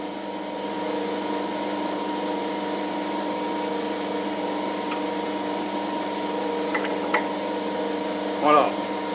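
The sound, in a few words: drilling hard steel with a cobalt drill bit on a metal lathe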